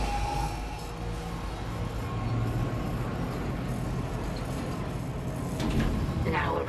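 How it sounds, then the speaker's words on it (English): A tram pulling into a station in the video game Dead Space Remake: a continuous mechanical rumble and rolling hum, with a hissing, door-like burst toward the end and a faint voice mixed in. "Now arriving at flight deck tram control."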